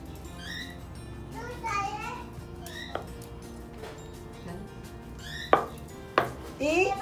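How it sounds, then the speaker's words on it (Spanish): A knife chops papaya into pieces on a board with several sharp knocks spread unevenly through the passage, and a voice talks continuously over the cutting. "Entonces ahora la picamos al medio. La volvemos a picar otra vez al medio."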